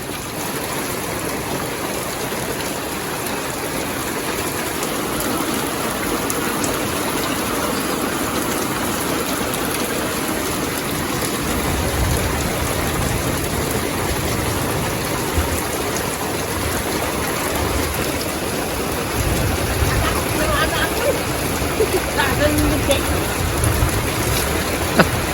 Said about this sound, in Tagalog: Ang lakas sa ulan, bagyo ata.